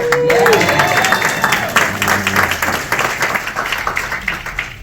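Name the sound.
audience applause for a speaker at a Dallas event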